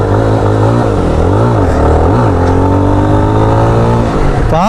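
Jawa 42 FJ motorcycle on a test ride, its engine revving up and down in repeated surges before climbing steadily, loud and close throughout.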